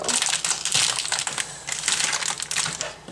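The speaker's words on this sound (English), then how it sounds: "I'm going to actually cut this through the plastic" A knife cuts through a block of cheese still in its plastic wrapper, giving close, crinkling and crunching bursts of plastic with brief pauses between strokes, and no talking.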